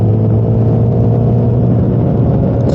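An Indian Scout cruiser motorcycle engine runs loud and close at a steady, throaty rev, its deep rumble holding even for a few seconds with no voices over it.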